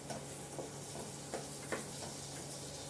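Cumin, dried chilli and asafoetida tempering sizzling in hot ghee, a steady close crackling hiss with scattered small pops and faint stirring clicks, no talking over it.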